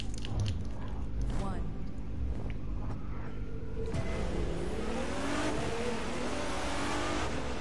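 A Nissan GT-R engine revs and accelerates hard from inside the car, a loud rising roar climbing in pitch through a gear change, with people talking over it.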